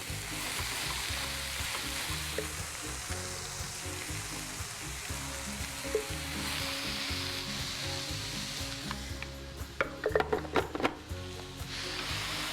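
Shredded cabbage sizzles steadily in a hot pan, a continuous close frying hiss, with clattering stirring scrapes and knocks from a utensil toward the end.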